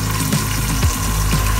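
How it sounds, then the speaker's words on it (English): Water runs steadily from a tap into a large stock pot being filled with salt water to soak kale, a continuous close rushing splash with no talk. "fill a large stock pot with salt water and add your kale to it"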